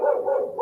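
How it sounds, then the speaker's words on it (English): A neighbour's dog barks in one sustained, nearby yelp-like burst, loud and alone with no talk over it. "It's not our dog barking"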